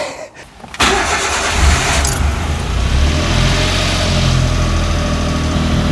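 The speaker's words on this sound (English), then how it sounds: "It's idling about maybe 1800 RPM at the moment." A Suzuki Alto Works engine, just fitted with a new timing belt, water pump, tensioner and lifters, cranks and catches with a roar, then settles into a steady, loud idle around 1800 RPM that rumbles on to the end.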